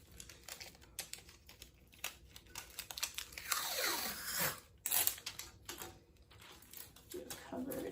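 Tape pulled from a roll and pressed onto a screen printing screen in an apartment, with close crackling and a long tearing rip midway, followed by sharp taps and crinkles.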